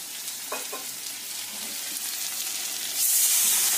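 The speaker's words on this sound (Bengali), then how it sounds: "সবজিটা ভাজা হয়ে গেল" Vegetables sizzle in a hot pan for a dish made with broken wheat, a steady close frying hiss with a couple of stirring scrapes early on, growing louder and brighter toward the end.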